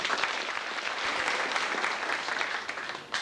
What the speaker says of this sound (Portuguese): saudasse o senhor Valdir com uma salva de palmas